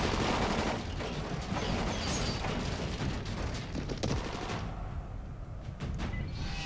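Gunfire in the zombie video game Dying Light, dense rattling bursts of shots and impacts, loud at first and then thinning into scattered sharp cracks.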